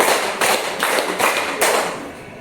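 A group claps together in a counted Indonesian clapping pattern, four or five loud broadband bursts of massed hands spaced roughly every 0.4 seconds, with no talk over them.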